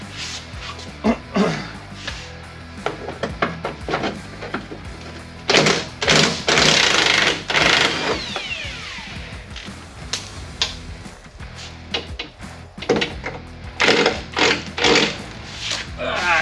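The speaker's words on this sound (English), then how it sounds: "now I can go ahead and take my 18mm and get all these bolts loose and pull the bumper off" Ratcheting and clanking of an 18mm socket wrench loosening bumper bolts on a 1990s Chevy K1500 pickup during a teardown, with repeated short metallic bursts, rattles and clunks at close range, broken by pauses.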